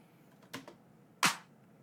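Layered clap and snare samples sound in isolation: a lighter crack first, then one louder, fuller hit about 0.7 seconds later, each short and snappy.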